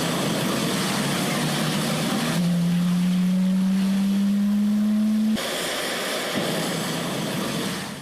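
Sukhoi fighter jet of the Malaysian air force flying, a loud continuous engine roar with a steady rising whine in the middle section, heard alone without talk.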